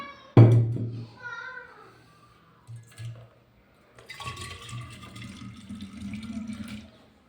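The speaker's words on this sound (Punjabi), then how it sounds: "ਹੁਣ ਆਪਾਂ ਇਹਨਾਂ ਨੂੰ ਥੋੜਾ ਥੋੜਾ ਪਾਣੀ ਦੇ ਵਿੱਚ ਹੋਰ ਪਾ ਦਾਂਗੇ" Water pours into tea bottles being cleaned, a sloshing, gurgling stream that runs steadily through the second half after a few brief thumps and faint background voices.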